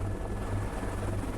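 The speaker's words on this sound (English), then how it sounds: "The intense rotor wash and engine noise can be very unnerving." Steady, loud low rumble of a rescue helicopter hovering close by, rotor wash and engine drone continuous throughout with no talk.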